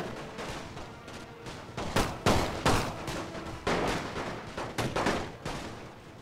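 Massed musket volleys from regiments firing on a unit in line formation in a Great War strategy game, a series of sharp, loud cracks and ragged bursts layered over a steady battle din, with no talking.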